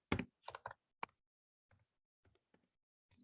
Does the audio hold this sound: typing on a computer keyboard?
yes